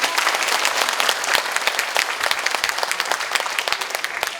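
A lecture audience applauds steadily at a political talk by a former Korean prime minister in Jungnang, a dense wash of many hands clapping at even loudness throughout, with no voices over it.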